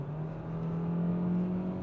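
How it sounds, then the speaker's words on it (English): A 2023 Hyundai Tucson PHEV Limited AWD in sport mode holds a steady, droning engine tone with a faint whirring layer, heard from inside the cabin without talk. "the sport mode lets that engine really rev up"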